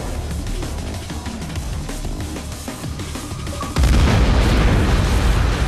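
A heavy explosion in the video game Ghost Recon: Future Soldier bursts in with a deep, loud boom and rumbling roar that swells and holds to the end, following a stretch of crackling battlefield noise.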